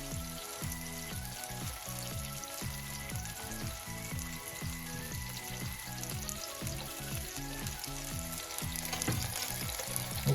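Mild peppers frying in a pan, a continuous close sizzle with a regular rhythmic scraping or stirring pattern running underneath, no talking.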